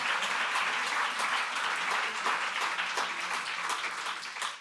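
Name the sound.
audience round of applause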